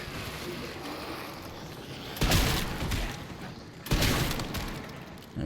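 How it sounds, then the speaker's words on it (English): Two heavy, close shotgun blasts ring out a second and a half apart, fired at zombies in the Resident Evil Requiem game, each a loud broadband boom that decays over a low background hum. "equip the shotgun. Go for headshots on the zombie."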